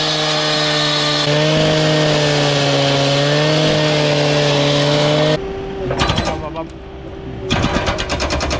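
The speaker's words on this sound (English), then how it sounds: "I just gotta make one saw cut so we don't disturb the steps." A loud power saw whines steadily while cutting concrete for several seconds, then stops, followed by banging and clattering nearby.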